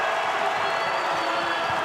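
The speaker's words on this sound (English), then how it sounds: "A little cheering going on down in Snyder, Texas right now" A crowd at a college men's basketball game between Western Kentucky and Middle Tennessee roars steadily, a dense, continuous wash of cheering and clapping filling the arena.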